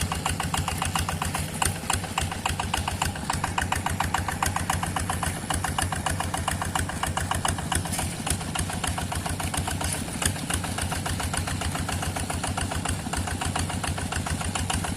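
The engine of a water pump runs in a rice paddy, steady and loud, with a fast, even chugging throb and knocking that continues unbroken throughout, with no voices.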